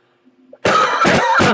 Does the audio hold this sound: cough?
yes